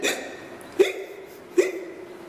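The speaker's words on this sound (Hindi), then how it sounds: "तो हिकअप यानी कि हिचकी" Three sharp hiccups from one person, spaced roughly three quarters of a second apart, close and clear with a brief voiced catch on each and nothing else heard.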